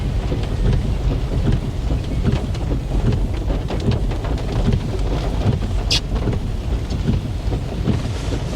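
Steady, loud rain pours down in Jamaica with a constant broadband hiss, joined by low rumbling that fits distant thunder and a brief sharper crack near the end; no voices.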